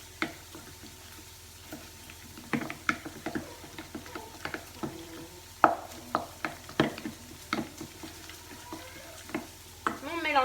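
Minced meat is being mixed with an egg for a Vietnamese-style recipe, giving soft, irregular squelching and stirring sounds with occasional sharper clicks against the bowl, close and fairly quiet, with no talking.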